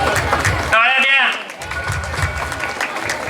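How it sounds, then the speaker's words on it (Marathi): An audience at a high school annual prize distribution ceremony claps in a dense patter, with a short whistle-like tone rising over it midway and the clapping continuing under faint voices. "टाळ्या द्या."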